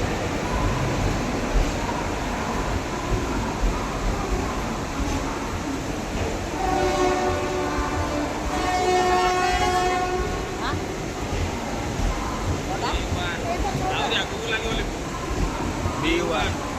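The Patna–Ernakulam superfast express arrives at the station, a continuous rumble of rolling wagons broken by a long, loud horn blast midway, with voices faintly present in the background.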